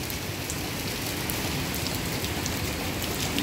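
Steady rain pours down without a break, a close, dense hiss of drops striking surfaces, and no voices are heard.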